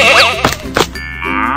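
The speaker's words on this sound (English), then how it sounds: "Goat." A single goat bleat in a 3D animal video game, wavering and nasal, loud and close, followed by a short sustained synthetic-sounding tone.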